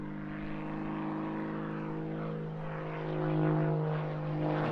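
A propeller aerobatic aircraft built on a Pitts S2S fuselage with a large modified wing drones overhead at an airshow, a steady buzzing engine hum that swells slightly as it passes.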